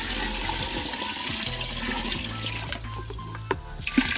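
Pond water is poured into a plastic drum while making liquid organic fertilizer, a steady gushing splash that runs continuously and close with no talk.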